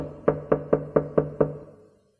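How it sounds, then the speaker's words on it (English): Six louder knocks on a door in a steady, quick rhythm, close and resonant, ending with a short fading ring. "So he knocked again,"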